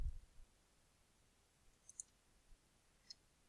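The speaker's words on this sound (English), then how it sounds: "And then you click OK." A few faint, sharp computer mouse clicks spaced irregularly over quiet room hiss, small and close.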